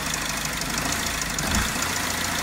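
A car engine with an active EGR valve fault runs rough at idle, a dense, continuous close-up rumble with uneven knocking pulses and steady vibration.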